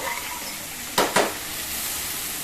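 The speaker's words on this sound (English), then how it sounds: "See, the bhindi is getting roasted nicely." Sliced okra (bhindi) with onion roasting in a pan, a soft steady sizzle broken by two quick scraping stirs close by.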